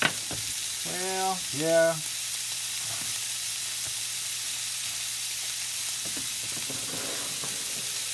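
Burgers sizzle steadily in a hot skillet, a constant bright hiss of frying fat close up with faint kitchen clatter; a voice speaks briefly early on.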